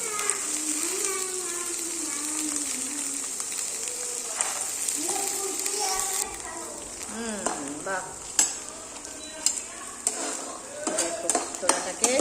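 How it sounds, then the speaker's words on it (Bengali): Stirring and frying in oil in a toy kitchen set, with chickpeas and potato, giving a steady bright sizzle with scraping stir strokes that become sharper and more clattery toward the end, and some faint voice sounds mixed in. "সুন্দর করে এবার ভাজবো নাড়া দিয়ে দিই"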